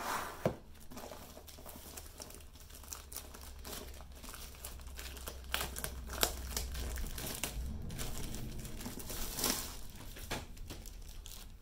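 A diamond painting canvas with poured glue is unwrapped close by, with continuous plastic crinkling and crumpling and a few sharp crackles and taps.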